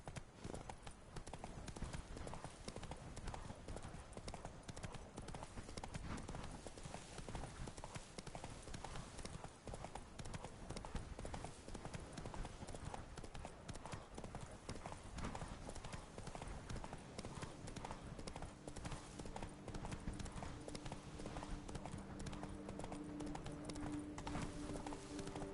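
Roach the horse galloping in Witcher 3, a steady rapid drumming of hoofbeats that continues throughout under game music and ambience.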